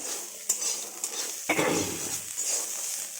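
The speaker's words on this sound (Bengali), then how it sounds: "দেখুন থোড়টা ভাজা হয়ে এসছে।" Banana stem frying in a pan crackles and hisses as it is stirred, with sharp utensil scrapes and clinks at intervals, close up and fairly quiet.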